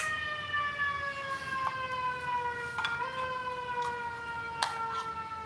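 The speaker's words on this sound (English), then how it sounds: "And there's an ambulance." Ambulance siren wailing through its repeating tones, steady and fairly loud, with a slight pitch drop as it passes by.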